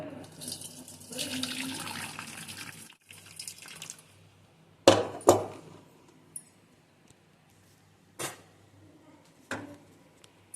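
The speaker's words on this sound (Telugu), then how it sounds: "3 విజిల్స్ ఉడికించుకున్న తర్వాత ఇప్పుడు దీన్ని వాటర్ ఇలా వంపుకొని" Water is poured off cowpea dal pressure-cooked for three whistles, pouring and splashing for a few seconds, then stops, followed by a few sharp metallic clinks and knocks of a pot.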